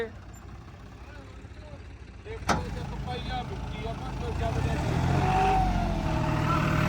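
A tractor engine revs up at night in a field, a sharp knock followed by a steady low rumble that builds louder toward the end, with voices talking throughout.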